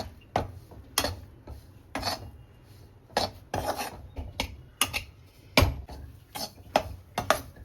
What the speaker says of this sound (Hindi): अब इसको मीडियम फ्लेम पे धीरे धीरे चलाते रहेंगे।